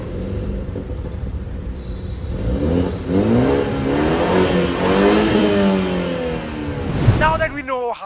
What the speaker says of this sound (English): it packs a 2-liter engine which is 4-cylinder and turbocharged